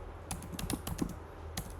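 Keys tapped on a computer keyboard while Python code is written, a short burst of soft, close clicks with a few sharper strokes, alone without talk.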